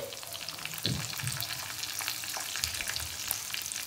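Chopped onion and curry leaves frying in hot oil for a peas, soybean and potato bhaji, giving a steady close sizzle with a few soft thuds from stirring and no talk.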